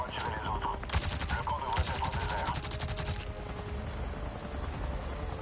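Rapid bursts of gunfire in the video game Avatar: Frontiers of Pandora, loud sharp volleys clustered in the first few seconds, then a rumbling game background, with a voice talking over it.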